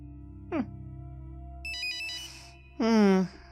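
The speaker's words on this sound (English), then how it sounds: "it doesn't take long before you hear your phone ring" A phone on a kitchen counter ringing, a close electronic ringtone in separate bursts of rising and falling tones, with a voice speaking in between.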